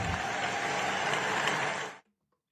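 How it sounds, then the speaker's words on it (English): Crowd applause during a presidential address by Joe Biden, a dense, steady roar of clapping lasting about two seconds before cutting off abruptly into silence. "He gets lots of applaud for that"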